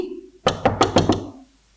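Knocking on a door in a TV drama, five firm evenly spaced knocks, loud and close, following a brief low tone.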